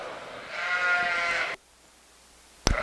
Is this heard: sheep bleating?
yes